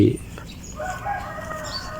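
A rooster crows faintly in a rural Thai setting where fighting chickens are raised, with a brief loud sound at the start and steady background noise throughout.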